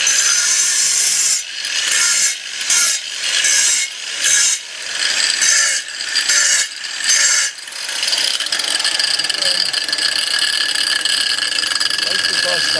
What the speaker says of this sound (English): so I always cut grooves in the back.